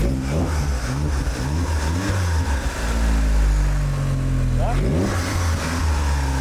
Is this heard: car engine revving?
yes